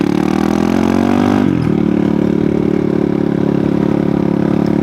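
Loud, close supermoto motorcycle engine held at high revs, rising briefly, dropping and then settling into a steady sustained drone while riding.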